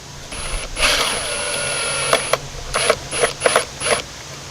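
A fastener being driven with an extended ratchet tool while building bucket fenders for a mini trike: a series of short, clicking ratchet strokes with mechanical whirring, close and fairly loud, coming in uneven bursts.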